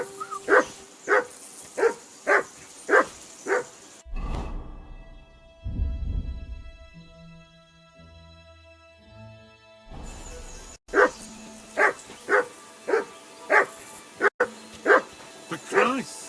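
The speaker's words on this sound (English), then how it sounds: "Call off that damn dog before he wolfs down the last of our mates." In the video game Kingdom Come Deliverance II, a dog barks in a steady series of evenly spaced barks that break off into a quieter stretch and then resume just as rhythmically.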